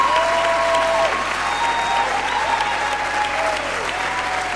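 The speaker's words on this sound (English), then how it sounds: "Y'all give him a hand clap." A gospel concert crowd claps for a newly introduced young musician, sustained full applause with a few faint tonal sounds rising over it, easing slightly toward the end.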